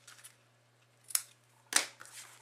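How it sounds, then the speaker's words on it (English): Scissors snipping the excess strap off a handmade gift bag, two sharp close cuts about half a second apart after a few faint rustles, in a quiet room. "And then I'm just going to trim the excess off so that it's nice and clean."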